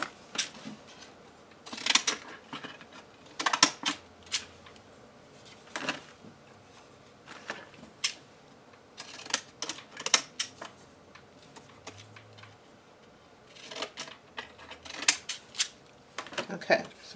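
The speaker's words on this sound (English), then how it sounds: "I do need to cut this edge here though." Scissors snip along the edge of paper for a collaged planner cover, making sharp, close cuts in irregular bursts with quiet pauses between them.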